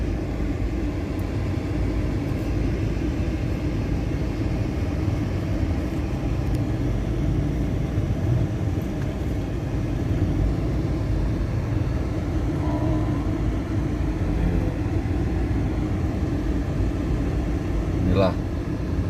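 Steady, dense rumble of heavy car and motorbike traffic jammed in a busy town street in Prabumulih on the eve of Eid, continuous and close, with a faint horn-like tone near the end.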